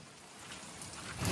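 Rain falling outdoors: a steady, soft hiss of drops, fairly faint at first and growing louder and nearer toward the end, heard alone with no voices.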